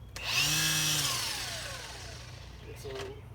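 A Milwaukee cordless electric string trimmer spins up to a loud, steady, high whine close by, then slowly winds down and fades before a brief second pulse near the end.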